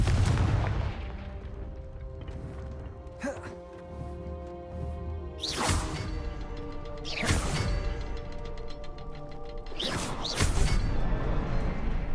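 Fiery Confringo spell blasts in the video game Hogwarts Legacy, several sharp explosive bursts with whooshing tails spaced a few seconds apart over a sustained tonal musical background, fairly loud and close.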